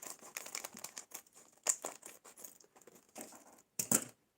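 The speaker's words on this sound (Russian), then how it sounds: "С сухим содержимым открываем пакет." An instant noodle dry seasoning packet is torn open and handled, giving short, quiet crinkles and rustles in irregular bursts with brief pauses, close by and with no talk.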